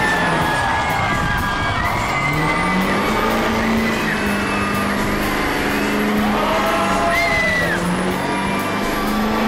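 Diesel truck doing a burnout at a diesel shootout burnout contest, a loud sustained engine roar with rising and falling revs over a cheering, shouting crowd, continuous throughout.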